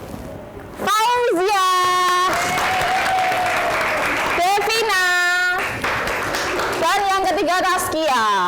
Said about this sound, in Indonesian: Berdiri, iya, tepuk tangan lagi.